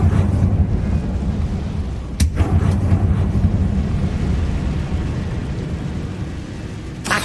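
A Confringo blasting spell in Hogwarts Legacy sets off loud, rumbling explosive bursts, a sharp crack near the middle and another at the end over continuous booming, windy noise.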